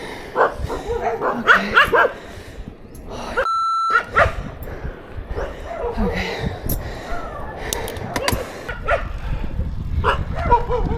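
Several dogs, about 20 or 30, bark and yip in bursts along a road in Thailand, some near and loud, others farther off, with occasional whimpers and a brief electronic beep amid outdoor noise.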